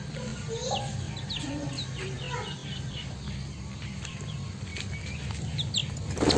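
Young chickens cluck softly in a steady background, with scattered chirps and a brief flutter of wings, continuous and moderately quiet throughout.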